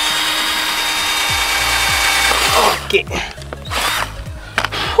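Power drill with a small bit boring a hole in an RC jet boat hull, its whine rising and falling in short repeated bursts, close by, followed by handling knocks and a brief spoken word.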